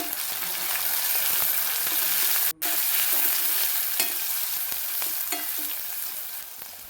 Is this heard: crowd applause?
no